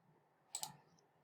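A quick double click of a computer mouse while working in Photoshop, two soft close taps in an otherwise quiet room.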